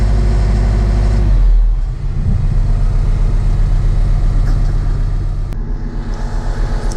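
Loud, steady drone of a TYM T5075 farm tractor's engine that drops after a couple of seconds from a higher setting back to a constant 1500 RPM, then holds that pulsing idle close to the listener.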